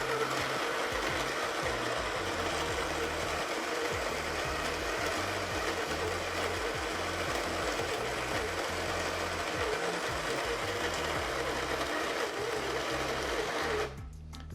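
A home espresso machine pulls a shot of El Salvador Santa Rosa honey-process coffee, giving a steady, loud pump buzz that runs unbroken for about fourteen seconds and then stops abruptly, with no talking.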